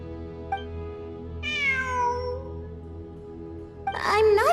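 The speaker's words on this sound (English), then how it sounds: "It really is a cat." A cat gives a drawn-out, clear meow, then a second, more strained meow a couple of seconds later, both over a steady tonal hum in the background.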